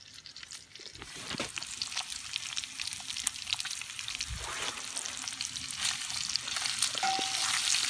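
Bacon sizzles in a pan over a fire at a snowbound A-frame cabin, a loud, dense crackle that builds steadily and keeps up with no talking over it.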